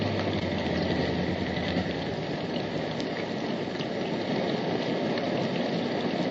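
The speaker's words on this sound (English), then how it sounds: "the rain is monotonous" Rain falls steadily on a broad road in a film scene, a constant, even hiss of drops with fine pattering detail, moderately quiet and uninterrupted, with no voices over it.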